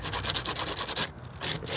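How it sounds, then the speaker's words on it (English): Rapid back-and-forth strokes of 80-grit sandpaper on rusted metal, a rough scratchy rasp that pauses briefly before resuming, up close. "we're gonna start sanding with some 80 grit sandpaper"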